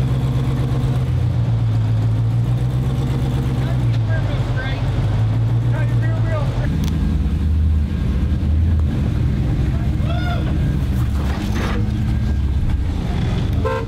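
An off-road vehicle crawls over rocks and around a tree on a trail at Good Evening Ranch, its engine rumbling and revving steadily with clunks of the chassis, people talking over it throughout.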